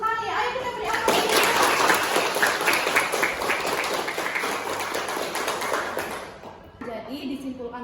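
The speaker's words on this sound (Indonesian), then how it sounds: "Ayo kita beri aplaus." Applause in a classroom during a teacher performance exam, a sustained burst of clapping from many hands lasting several seconds, fading near the end into light voices and chatter.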